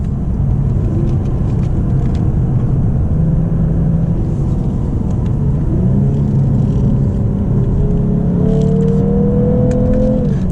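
A 2022 Lexus RC350 F Sport engine revs up and down through manual-mode gear changes in Sport Plus, heard from inside the cabin, a loud continuous rumble with rising and falling pitch, no talking.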